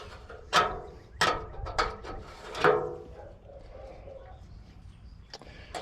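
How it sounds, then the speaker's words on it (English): A crescent wrench loosens fasteners on the top of an outdoor air conditioner unit, giving several separate close metallic ratcheting scrapes spaced a second or so apart, then quieter handling. "I'm using a crescent wrench because I did not think to bring my other tools."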